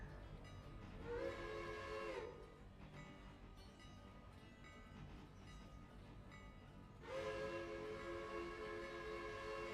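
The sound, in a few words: locomotive whistle blown on a passenger train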